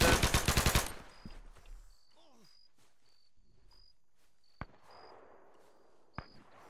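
Burst of rapid automatic gunfire from a WW2 paratrooper shooter game set at night in Normandy, loud and close at the start, followed by quieter scattered single shots and ambient insect chirps.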